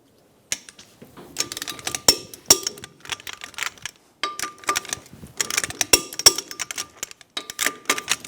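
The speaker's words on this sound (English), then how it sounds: "Torque the lug nuts to 94 foot-pounds in a cross pattern." A ratcheting wrench tightens the wheel lug nuts on a 2000-2007 Ford Focus 2.0L, giving rapid bursts of crisp mechanical clicks with short pauses between strokes, close and clear with no talk.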